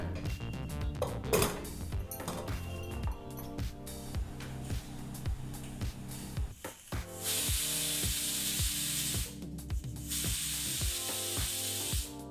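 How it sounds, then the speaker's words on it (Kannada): A pressure cooker whistle lets out a loud, steady hiss of steam in two long bursts over rhythmic background music, while a village-style field bean sambar cooks. "ಇಲ್ಲಿ ಕುಕ್ಕರ್ ಎರಡು ವಿಸಲ್ ಬಂದಾಯಿತು"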